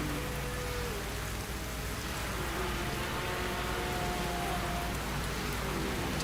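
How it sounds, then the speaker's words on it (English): Heavy rain hisses steadily in a racing video game during an esports endurance race at Misano, a dense constant wash of drops with faint engine whine tones underneath. "The rain is falling on the lane. Yeah, and hard as well."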